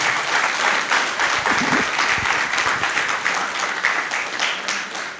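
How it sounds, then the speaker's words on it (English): A crowd at a book launch applauds a guest of honor, Dr. Mustafa Abdul Hamid, with dense, sustained clapping throughout and a brief murmur of voices under it early on. "with a very big round of applause, let's acknowledge our guest of honor, Dr. Mustafa Abdul Hamid."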